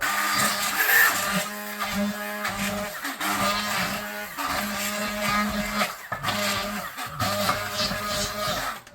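A stick blender whirs through wild garlic in a kitchen, a loud buzzing motor that cuts in and out in repeated bursts, with brief pauses between pulses and no talk.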